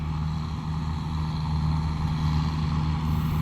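A large diesel combine harvester engine drones steadily at a low pitch, continuous and fairly loud, with no voices over it.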